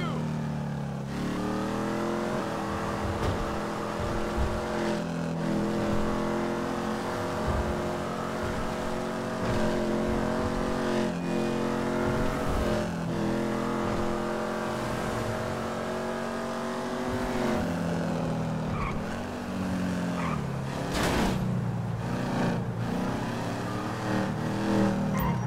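A car driving fast in GTA gameplay, a loud sustained engine whine that holds steady and then shifts pitch, with brief tire skids late on, and faint talk mixed in.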